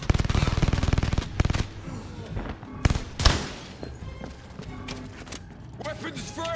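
Rapid bursts of automatic gunfire from a VR video game, a dense rattling volley up front followed by scattered single shots and booms, with game sounds and a voice talking over the action.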